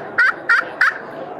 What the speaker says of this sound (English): you can go out in the woods with one pot call, two different strikers, and make the sounds of two different birds